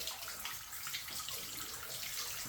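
Steady stream of running water from a tap while a makeup brush is rinsed, continuous broadband rush with no talk over it.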